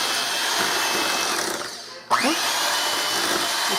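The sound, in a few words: electric mixer beating eggs into fudge pie batter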